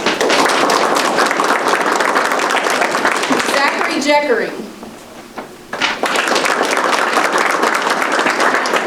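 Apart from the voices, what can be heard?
audience applauding students at a school board meeting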